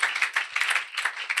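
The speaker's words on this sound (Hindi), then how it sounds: "आए हम खुदा के जलाल के ज़ोरदार ताली बजाएं।" A church congregation claps loudly together at a New Year's Eve night service, a dense, steady rattle of many hands with rising and falling swells and no talking.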